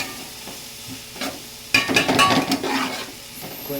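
Spices and onions frying in a pan for chicken curry, a soft sizzle under scraping stirs that turn into a louder burst of spoon-on-pan clatter and hissing partway through.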